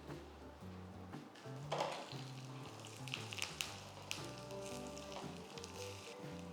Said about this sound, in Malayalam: തേങ്ങ ഒന്ന് ലൈറ്റ് ബ്രൗൺ കളർ ആവണം.